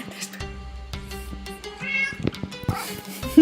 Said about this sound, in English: everyone's meowing on the stream tonight